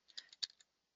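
A quick burst of about seven crisp keystrokes on a computer keyboard while entering a command in AutoCAD, close and quiet, finishing within well under a second, followed by silence.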